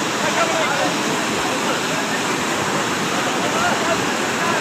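Floodwater rushes through a breached protective embankment on the Sutlej river, flooding rice fields. It is a steady, loud, broadband roar that holds without a break.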